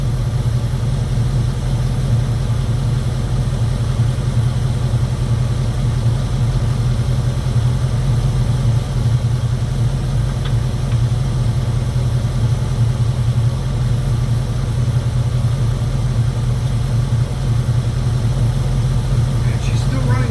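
A 2002 Jeep Grand Cherokee with the 4.7 V8 idles steadily and close by, a low, even rumble with a strong bass hum holding throughout and no obvious misfire stumbles.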